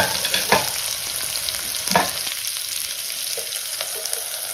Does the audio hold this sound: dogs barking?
no